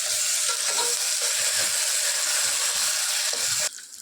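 Ginger garlic paste fries with onions in a pan, giving a bright, continuous sizzle broken by repeated clicking, scraping stirs before it drops off abruptly at the end.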